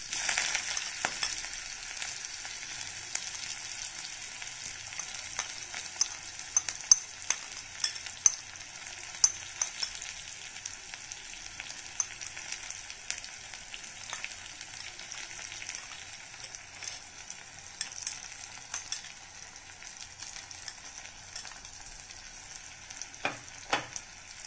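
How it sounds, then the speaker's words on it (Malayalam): Chopped shallots fry in hot oil with popped mustard seeds, a tempering for pazham pulissery, giving a steady close crackling sizzle dotted with small pops and stirring throughout, with no talking. "കടുക് പൊട്ടിയിട്ട് കുറച്ച് ഉള്ളി അരിഞ്ഞു വെച്ചത്."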